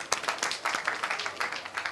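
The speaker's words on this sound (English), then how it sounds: "You clap for that." An audience claps at an event welcoming home a victorious athletics team, quick uneven hand claps pattering steadily but fairly faint for two seconds, with no voices heard.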